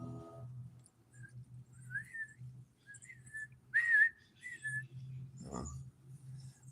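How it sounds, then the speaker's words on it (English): Someone whistles short, thin phrases over a low steady hum, with rising and falling notes spread across several seconds, one louder shrill burst in the middle, faint and close. "Whistle."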